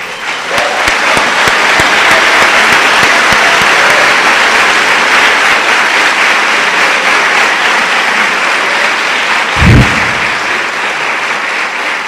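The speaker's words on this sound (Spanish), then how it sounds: "les pido un gran aplauso" Sustained applause from a large audience, steady and dense clapping for about ten seconds, with a brief low thump near the end.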